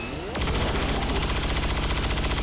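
Rapid automatic gunfire in XCOM 2: a sustained burst of evenly spaced shots that starts abruptly after a brief rising whoosh, loud and steady, with no voices over it.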